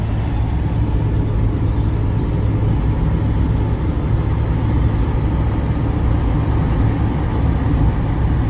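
A 1965 Dodge D100 pickup truck takes a big sweeping corner, heard from inside as a loud, steady low engine drone and road rumble that holds even throughout with no break.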